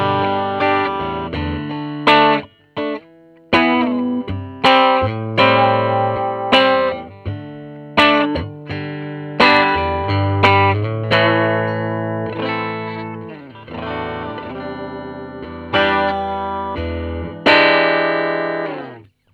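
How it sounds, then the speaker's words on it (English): A homemade custom electric guitar plays through an amp on its bridge pickup with a clean, unsaturated tone and no pedals or reverb, strummed chords and single notes ringing out bright and close. "you're hearing a very, very clean, unsaturated sound coming from that"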